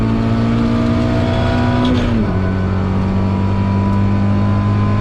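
A Mazda MX-5 drives a lap of the Nurburgring, its engine droning loud and steady from inside the car, with a brief dip in pitch at a gear change before settling again, no voices.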